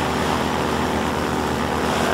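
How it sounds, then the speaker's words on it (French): In Half-Life 2, a loud hovercraft engine drones at close range, a steady, thick roar that holds at one level throughout with no voices over it. "un aéroglisseur relativement bruyant. C'est ce qui m'a fait baisser le volume du jeu d'ailleurs, parce que quand il roule ça va fort."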